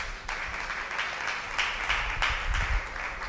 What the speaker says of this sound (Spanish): den un aplauso al Eterno